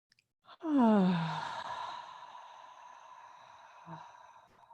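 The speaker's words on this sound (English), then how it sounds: "we're going to long, slow exhale out through the mouth" A long, slow exhale out through the mouth during a restorative yoga breathing exercise, starting as a voiced, falling sigh and trailing off gently, close and quiet, followed by a brief softer breath.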